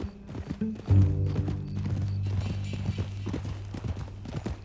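Horse hooves clip-clop at a steady walking pace in Red Dead Redemption 2, fairly close, with a low hum beneath them and some background game sounds.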